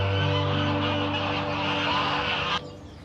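Ducks call in the Monforte gardens in Valencia, a loud, steady run of nasal honking quacks close by that stops abruptly near the end, with no talking.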